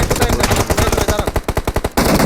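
Rapid automatic gunfire rings out in a battle royale video game, a loud, close string of evenly spaced shots that breaks off briefly and then resumes.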